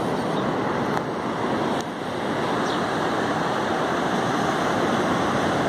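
Sea waves wash onto the beach at Itapoá, Santa Catarina, a continuous broad roar of surf with wind, steady and fairly loud, with no one speaking.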